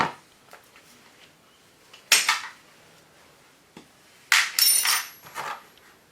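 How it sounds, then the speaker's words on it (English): Metallic clanks and scrapes as a brake caliper is rocked back and forth on the disc of a Yamaha Road Star motorcycle, several sharp bursts separated by quiet pauses, close and fairly loud. "just rock the caliper back and forth on the disc and it should come free, just like that"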